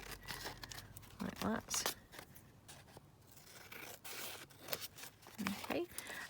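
Scissors cut down paper for glue-book style journal cards, a few crisp snips and rustles near the microphone, with a quiet voice talking briefly.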